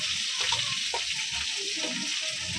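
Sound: onion paste frying in hot oil

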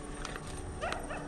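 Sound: dogs barking and howling outside at night

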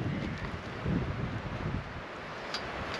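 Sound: wind blowing at a woodland campsite

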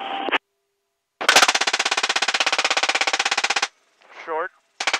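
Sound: GAU-21 .50 caliber machine gun firing from helicopter

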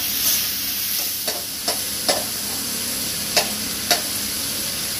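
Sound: onion frying in oil

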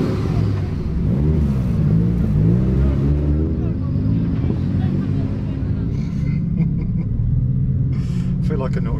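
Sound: Lamborghini STO engine at a drift session

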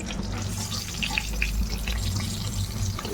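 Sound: adding pointed gourd to the pan to fry

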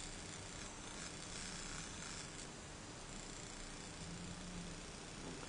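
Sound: drawer motor of NAD C525BEE player running

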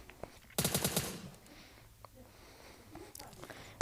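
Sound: gunfire in the video game PUBG Mobile Lite

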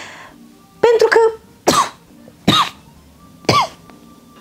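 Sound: person coughing

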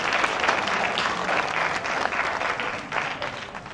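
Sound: audience applause for a team

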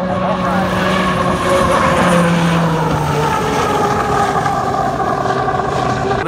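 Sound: H1 Unlimited hydroplane racing boats on the course

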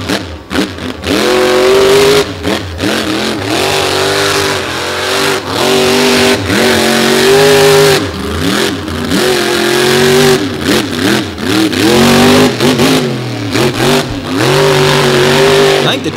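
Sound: monster truck engine revving on the beach

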